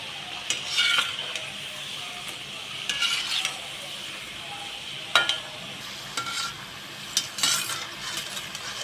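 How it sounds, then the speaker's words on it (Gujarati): Bajra (pearl millet) vadas frying in hot oil in a home kitchen, a steady soft sizzle with stirring and scraping of a utensil against the pan at intervals, close by with no talking. "આપણા બધા જ વડા આ રીતે તળાઈ ગયા છે"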